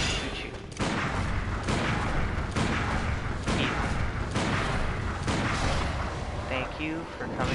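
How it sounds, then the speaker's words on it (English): Gunfire in Bloodborne, a series of heavy booming shots repeating roughly every second over dense, loud combat noise. "Wait, I'll just shoot you."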